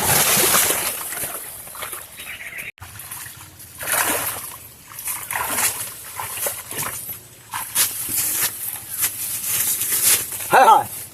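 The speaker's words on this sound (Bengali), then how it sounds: "হ্যাঁ দেন ডুব দেন।" Someone dives into the water, and loud splashes and sloshing follow at close range while people talk and call out over the noise.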